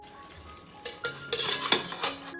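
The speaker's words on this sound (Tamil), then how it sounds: "இப்போ வந்து அந்த பிளேட் எடுத்து இதில் வச்சுக்கலாம்." Metallic clatter and clinks of a plate being set into an idli steamer pot over boiling water, several knocks and scrapes growing louder toward the end, close by.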